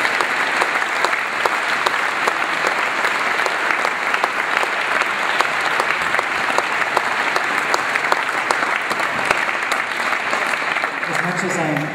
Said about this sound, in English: please join me in a round of applause for this wonderful group